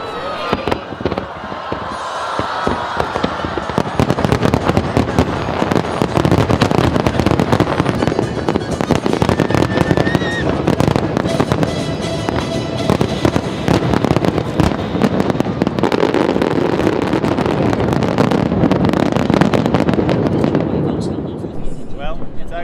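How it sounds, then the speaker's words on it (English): Fireworks bursting over Hong Kong harbour, a dense, continuous barrage of loud cracks and booms for over twenty seconds, with crowd voices and wind noise mixed underneath. "As soon as the fireworks started going off, the smoke started coming straight towards us."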